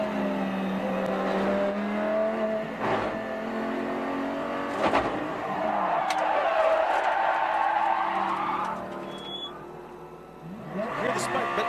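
At the Rolex 24 at Daytona, a race car spins its wheels on a burned-up clutch, with engine revving and whine under steady commentary from several voices.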